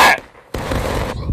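A musket volley in the War of Rights video game: a sharp, loud crack of massed gunfire, a brief near-silent gap, then a rolling wave of further shots and echoing rumble.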